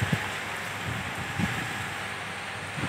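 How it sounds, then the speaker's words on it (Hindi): Heavy rain with strong wind in Sialkot Cantt, a steady loud wash of broadband hiss and rushing noise with occasional low thumps and gust bumps, continuous throughout with no talking. "बहुत तेज़ बारिश हो रही है, हवा भी बहुत तेज़ चल रही है"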